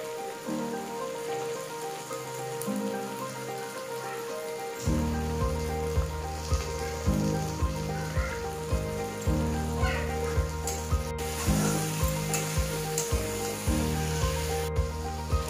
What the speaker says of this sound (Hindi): फिर आलू में कटे हुए टमाटर डालेंगे और टू टीस्पून लाल मिर्च पाउडर और एक टीस्पून मीट मसाला डालकर एक मिनट के लिए फ्राई कर लेंगे